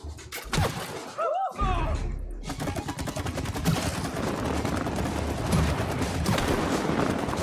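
Rapid gunfire from the co-op video game It Takes Two runs as a steady stream of shots after a short opening of voices and squeaky effects, with a player's voice over the shooting.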